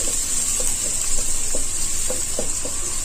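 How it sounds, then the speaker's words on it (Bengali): Large chopped onion frying in hot oil for haleem, a steady close sizzle and hiss with a few light clinks of stirring scattered through. "তেলটা গরম হলে এর মধ্যে আমি দিয়ে দিব বড় সাইজের একটা পেঁয়াজ কুচি।"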